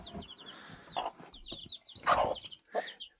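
A hen in a backyard flock clucks in short, repeated bursts near the nest where she lays, some clucks louder and rising, with small rustles between them.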